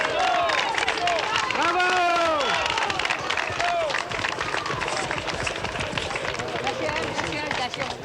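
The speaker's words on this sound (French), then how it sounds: "On entend les applaudissements" Spectators at the 1982 Montreal marathon clap and cheer along the course, crowd noise loud and sustained, with voices calling out and talking over the applause.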